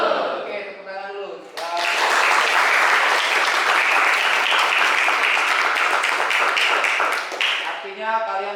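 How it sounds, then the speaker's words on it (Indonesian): A classroom of students bursts into loud, dense applause for about six seconds, with a teacher speaking briefly before and after. "Oke, tepuk tangan dulu."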